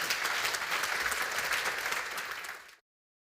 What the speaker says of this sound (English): A big applause, please, for also the second round of speakers.